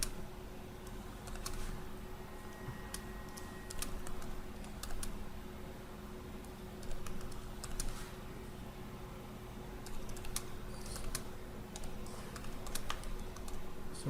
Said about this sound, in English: I'm going to be typing in the functions that I want to find the optimal solution for.